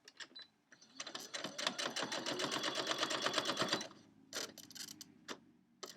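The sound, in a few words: sewing machine stitching a quilt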